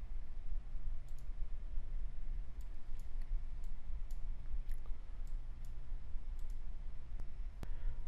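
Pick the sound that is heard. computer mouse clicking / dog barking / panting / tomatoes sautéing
computer mouse clicking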